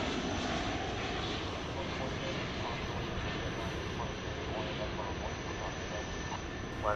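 A Qantas airliner begins its takeoff roll at night at DFW Airport, a loud, steady roar of jet engines filling the whole stretch with unbroken broadband noise.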